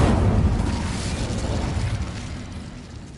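A fire spell cast in Hogwarts Legacy erupts with a loud, rumbling whoosh of flame that fades away over a few seconds.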